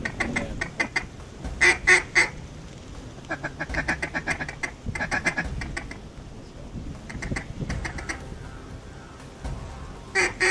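Ducks quacking in a prairie pothole wetland, repeated bursts of loud nearby quacks in uneven clusters, with quieter calls between them and no talk.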